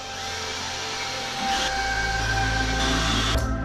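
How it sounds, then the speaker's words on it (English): A power driver sets screws into drywall, giving a steady whirring hum that rises and intensifies partway through, with a brief mechanical shift near the end and no talking. "let's finish getting these screws in"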